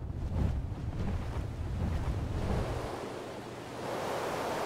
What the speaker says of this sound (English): That is an amazing waterfall.